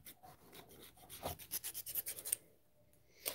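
Part of a Nemesis blaster launcher is sanded by hand, a series of quick close rasping strokes in an even rhythm, then a pause and one last stroke.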